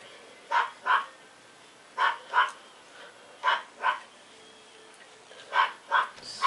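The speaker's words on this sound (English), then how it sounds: "the dog's, like, barking. It's so annoying." A dog barks in quick pairs of short barks, four pairs spaced a second or more apart, fairly faint and somewhat distant against a quiet background.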